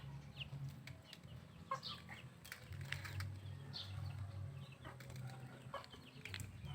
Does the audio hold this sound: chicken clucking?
yes